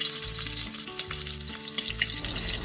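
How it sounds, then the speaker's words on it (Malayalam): Mustard seeds fry in hot oil in an uruli, giving a steady crackling sizzle with small pops and faint stirring scrapes, fairly close and without voices. "എന്നിട്ട് ഉരുളിയിൽ എണ്ണ ഒഴിച്ച് കടുക് വറക്കാം നമുക്ക്"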